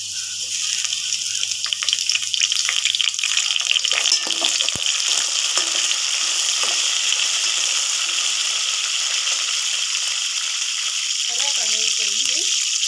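Curry leaves fry with onion in a pan, a loud, constant hissing sizzle right up close, with a brief stir or clatter partway through and a short voice near the end.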